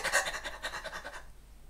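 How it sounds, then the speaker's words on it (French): A person demonstrates rapid, shallow stress breathing high in the throat, a quick series of close, breathy inhale-exhale puffs for about a second before falling quiet. "Vous voyez ce que c'est cette respiration? C'est la respiration du stress."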